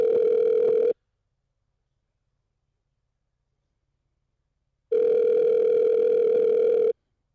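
A steady telephone tone hums for about a second, cuts to silence, then returns for two more seconds; clean and moderately quiet.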